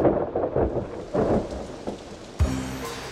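Steady rain falls in a rural setting, a continuous hiss and patter with heavier rumbling swells and a sharp, close crack of thunder near the end.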